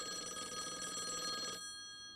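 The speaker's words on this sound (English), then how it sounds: "We gotta go answer that phone." A telephone bell rings steadily and fairly close for about a second and a half, then cuts off, leaving faint room tone; no one speaks.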